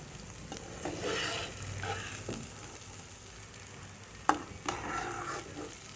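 Spiny gourd pieces fry slowly in a pan, giving a low, steady sizzle. Intermittent stirring scrapes and a couple of sharp spatula clicks sit near the end.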